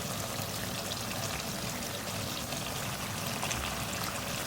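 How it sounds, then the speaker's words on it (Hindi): Half a cup of water poured into a pot of mutton karahi with tomatoes, a steady close splashing stream that runs evenly without pause and with no voices. "हाफ कप पानी डाल दूँ इसमें"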